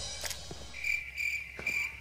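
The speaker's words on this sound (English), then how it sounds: "Crickets." Crickets chirp in short, repeated high trills at a moderate distance, pulsing in quick bursts with faint rustling and light background noise between them.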